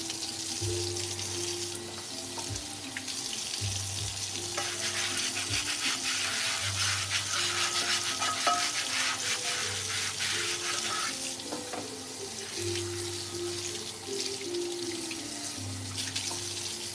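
Water runs steadily from a tap as a pan is washed with soap, a continuous splashing hiss with intermittent low hum and light clatter, fairly close, with no talking.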